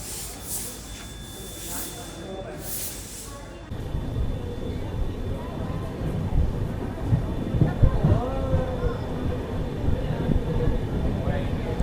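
Paschim Deluxe SF Express 12926 pulling out of Beas Junction in Punjab, a steady low rumble and hiss of the moving train that grows slightly louder, with faint murmuring voices in the background.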